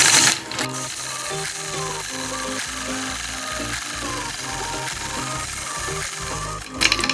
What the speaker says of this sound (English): I am totally just having fun free motion quilting.